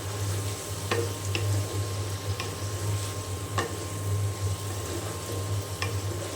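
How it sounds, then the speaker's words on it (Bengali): Potatoes sautéing with spices in a pan, a steady close sizzle with a few light ticks and scrapes of stirring throughout, no talk. "এখন আলু এই যে মশলার সাথে খুব ভালো করে কষিয়ে নেওয়া হয়ে গিয়েছে।"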